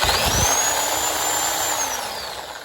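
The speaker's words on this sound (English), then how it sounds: "Sawzall didn't do half bad." A Sawzall reciprocating saw cuts through a car part during a GrimmSpeed install on a Legacy GT, a loud, close, continuous motor whine and buzzing that holds steady for several seconds before easing off, with no speech.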